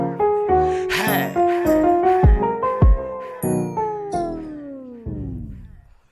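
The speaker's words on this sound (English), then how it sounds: "A pussycat." A cartoon cat meows in a song-like string of tonal calls, many of them one after another, loud and close, with a falling final note fading out. No speech is heard.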